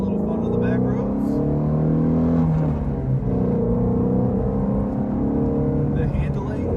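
A 2020 Shelby GT350 engine drones and rises in pitch as it accelerates on winding backroads, heard from inside while driving, with a voice speaking over it.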